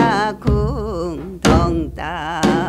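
A Korean janggu drum plays the deong-tta-kung pattern as accompaniment to a Gyeonggi folk song. Strong strikes land about once a second beneath a loud, wavering sung voice.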